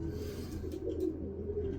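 A racing pigeon coos in a loft, low, throaty murmuring calls rolling on continuously at close range with faint background hiss.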